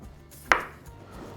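A knife slices a half-boiled plantain in two with one crisp, sharp cut partway through, close and clear, the rest quiet apart from faint room noise.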